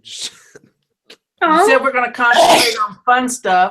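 A single sharp sneeze sounds near the start, close and loud, followed by a pause and then people talking.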